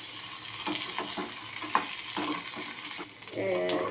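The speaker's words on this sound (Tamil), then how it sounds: "இந்த வதக்கிறதுல தான் இருக்குது நல்லா வதக்கி கொஞ்சமாக ஆகணும்" Pirandai (adamant creeper) sautés and sizzles in a pan while a spoon stirs it, giving a steady close sizzle broken by a series of scraping stirring strokes.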